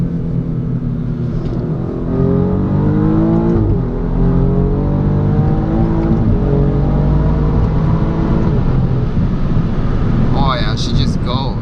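Alfa Romeo Giulia Quadrifoglio engine heard from inside the cabin, revs climbing and dropping through quick downshifts, then pulling hard under acceleration with a loud, steady drone and a person speaking over it.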